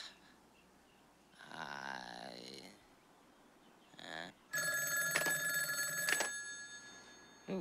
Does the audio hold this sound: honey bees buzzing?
no